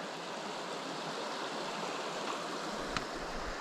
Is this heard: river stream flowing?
yes